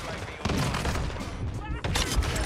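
SA-B 50 rifle shots ring out in Modern Warfare 2 multiplayer, several sharp cracks close together amid in-game noise, loud and close.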